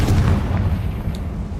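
A Confringo spell explodes in Hogwarts Legacy with a loud, deep, booming blast that rumbles and fades out over a second or so.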